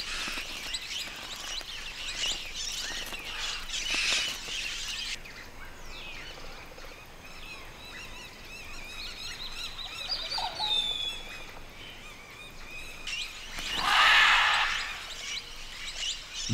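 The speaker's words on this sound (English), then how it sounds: "Mealy parrots are joined by rose-crowned parakeets." Mealy parrots and rose-crowned parakeets call in the wild, bursts of shrill chirps and squawks at moderate distance, loudest near the start and again in a sharp cluster toward the end, over quiet forest background.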